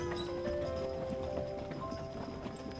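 Carriage horses clip-clop steadily along a carriage road in Acadia National Park, Maine, their hoof beats continuous and fairly close over a constant background hum, with no talking.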